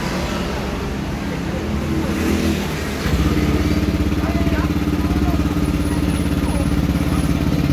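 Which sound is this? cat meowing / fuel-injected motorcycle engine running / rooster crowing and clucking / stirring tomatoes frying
fuel-injected motorcycle engine running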